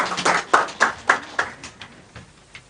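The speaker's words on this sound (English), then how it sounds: "Let's clap for Kitui." Rhythmic audience clapping at a steady pace at a Kenyan health-care status report meeting, loud at first and then fading as fewer hands join in.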